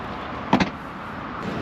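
A Mercedes-Benz CLE300 4Matic locks with a press of the key button, giving a quick pair of short clunks from the locks against a quiet background.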